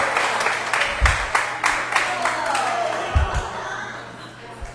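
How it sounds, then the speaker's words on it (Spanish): A church audience greets a visiting pastor with scattered applause, rapid claps and thumps layered over a steady room hum, fairly close and lively, with no talking heard. "Recibamos con un aplauso"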